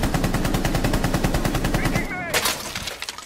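UMP submachine gun in a video game firing a long, rapid automatic burst of evenly spaced loud shots for about two seconds, then a short spray of echoing shell and impact noise fading out.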